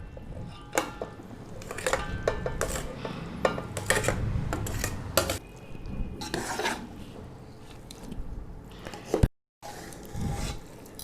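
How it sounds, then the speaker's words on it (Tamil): Cooked rice stirred in a pot for coconut milk chicken biryani, with repeated scraping and clinking of a utensil against the pot in irregular strokes, close and fairly quiet, broken by a brief silent gap near the end. "இப்போ எல்லாம் ஒன்று சேர்ந்து வர மாதிரி கிண்டிக்கணும்"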